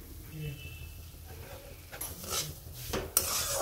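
Dry semolina stirred and scraped in a pan while roasting for jaggery sheera, soft gritty scraping with a few spoon clinks, faint and close, louder toward the end, a voice speaking over parts of it.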